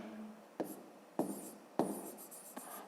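Pen or chalk writing out a long-division answer for a fifth-grade math exercise, a few short scratchy strokes with brief pauses between them, close and quiet with no talk.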